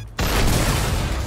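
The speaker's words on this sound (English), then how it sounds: "I heard explosion." A loud explosion goes off in Grand Theft Auto V roleplay, hitting suddenly after a brief quiet and rumbling on as a sustained broad boom without speech.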